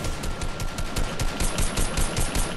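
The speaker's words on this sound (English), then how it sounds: "Who's shooting?" Automatic gunfire in the video game Fortnite, a rapid steady string of shots with a sharp rhythmic crackle that runs throughout the clip, fairly loud with no talk.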